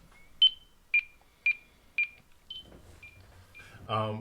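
Four clear, evenly spaced electronic beeps at a steady pitch, then softer tones as a voice starts speaking at the end.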